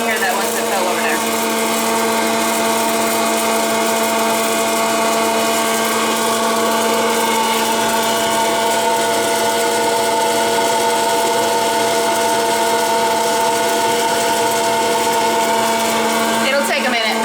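A popcorn popper whirs loudly and steadily before any kernels pop, a continuous motor drone with no popping yet heard.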